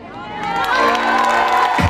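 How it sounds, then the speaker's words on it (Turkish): A concert crowd at an outdoor Hıdırellez celebration concert in Antalya cheers and shouts, a loud swelling roar of many voices that rises and holds, building toward a burst at the end. "Alkış gelsin mi?"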